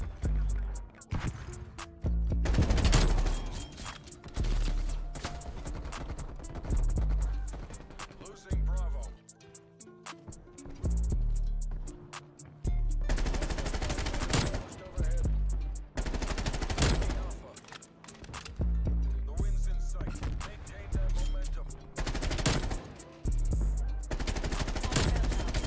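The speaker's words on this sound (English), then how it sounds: "Look how far away I can shoot this gun." Bursts of Groza rifle fire in Call of Duty: Cold War ring out in loud, repeated volleys with brief pauses between them, while a player talks over the shooting.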